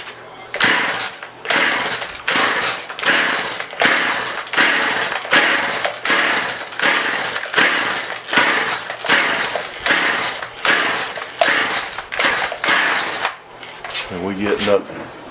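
Repeated rhythmic yanks on the pull cord of an Echo CS 330T chainsaw with the choke on, a dozen or so sharp ratcheting pulls in quick succession up close, with no engine catching.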